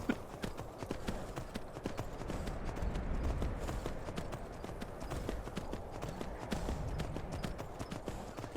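Horse hooves clip-clop in a steady, fairly quick rhythm in the video game Skyrim, a dense run of sharp knocks at moderate level that carries on throughout without a break.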